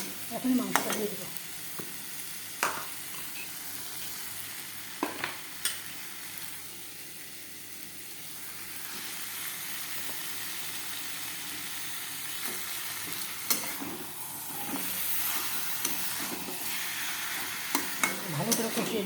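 Chicken sautés in a pan with potatoes and papaya, giving a loud, steady sizzle broken by occasional scrapes of a stirring utensil.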